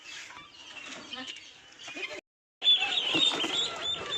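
Free-range village chickens cluck close by on a small farm, brief overlapping calls in two bursts with a short silent gap, amid turkeys, silkies and guinea fowl.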